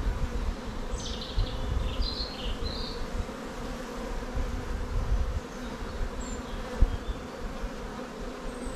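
Honeybees around hive frames make a dense, continuous buzz close by, with individual bees whining past now and then, and no talking.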